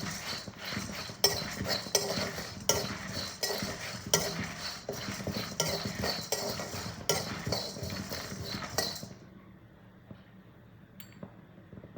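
Lentils and black pepper being dry-roasted and stirred in a pan, with repeated scraping and clinking strokes for several seconds before the stirring stops and it goes quiet.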